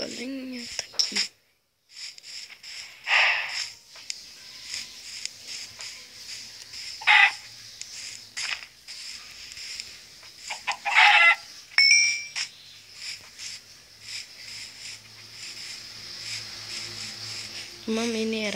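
Chickens in a Minecraft-style survival video game on Xbox cluck in short, scattered bursts over a steady chirping insect ambience, while a person talks quietly at times.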